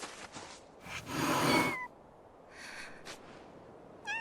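Kittens meowing in a fantasy role-playing game, a few thin high mews and cries at close range, one louder burst early and a brief squeak at the end, with no talk.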